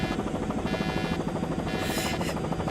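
A helicopter's rotor chops in a steady, continuous rhythm, loud and close throughout, with an engine whine above it, heard in a story-driven audio drama scene.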